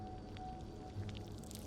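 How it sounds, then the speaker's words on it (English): In the game This Bed We Made, a key is pressed into a wax mold, making a soft, quiet squish. Faint low ambient hum sits underneath, and no one speaks. "time to put the key into the wax"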